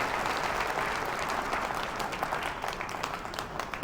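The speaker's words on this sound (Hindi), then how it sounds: "जोरदार तालियां होनी चाहिए हमारे चारों एमरल्ड डायरेक्टर के लिए" A large hall audience at an Achievers Day event applauding the four Emerald directors, dense sustained clapping from many hands that fades slightly toward the end.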